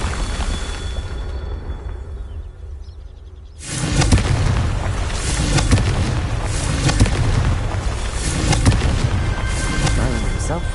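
Confringo spell exploding in Hogwarts Legacy on a Merlin trial, a sudden loud blast cutting in after a quieter stretch and followed by sustained rumbling crackle.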